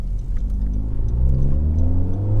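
Honda Civic Type R running a Remus exhaust in full race mode, engine revving up in a continuous climbing drone, loud and near, with no talk.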